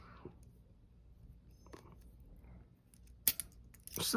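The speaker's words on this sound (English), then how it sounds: "Small pair of scissors." Faint clicks and light metallic snips of small scissors being handled, with a couple of sharper clicks near the end in a quiet room.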